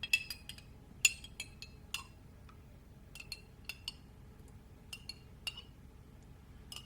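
A metal spoon clinks repeatedly against a glass jar while Neapolitan sauce is scooped out into a frying pan, giving a series of sharp, light, close taps at irregular intervals over a quiet background.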